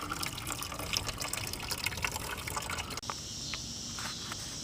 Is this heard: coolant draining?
yes